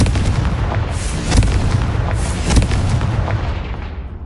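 Spell explosion going off in the video game Hogwarts Legacy, a dense rumbling blast with sharp booms near 1.4 and 2.6 seconds over continuous loud battle noise.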